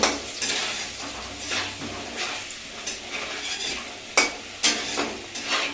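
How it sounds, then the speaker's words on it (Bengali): Potatoes frying in a pan with turmeric are stirred, the steady sizzle broken by several sharp scrapes and clinks of the utensil against the pan, close and fairly loud, with no talking. "আমি একটু নাড়া দিয়ে নেবো আলু।"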